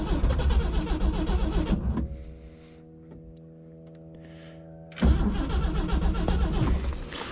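A 1964 Rambler American wagon, sitting unused for 26 years, cranking and running: rough loud engine noise, then a lull with a steady electrical hum, then the engine roars back loudly.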